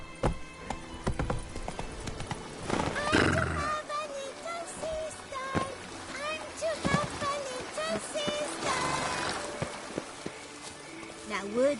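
Clip-clopping hooves and neighing from the horse Roach in The Witcher 3: Blood and Wine, mixed with game music and a voice speaking over the hoofbeats.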